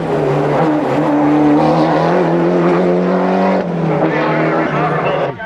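A Ford Escort rally car, the ADR entry at the 1996 Manx International Rally, drives with a loud, steady engine drone that shifts in pitch, heard close under a voice talking throughout.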